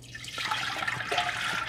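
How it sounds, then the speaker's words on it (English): Wild grape juice pours from a measuring container into a stock pot in a steady liquid stream that swells after a brief start and keeps splashing and gurgling at close range, with no other sound over it. "there's 4 cups and we'll pour it into the stock pot"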